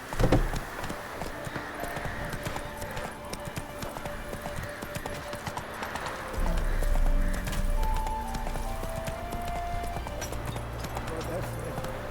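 Roach the horse gallops in The Witcher game, a steady rapid clip-clop of hooves under a man's spoken lines, with a brief whinny and music swelling in the background.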